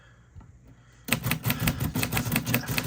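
Keys clack rapidly on a 1948 Royal Quiet De Luxe typewriter, a dense, even run of sharp, close strikes that starts abruptly after a second of near-silence, no voices.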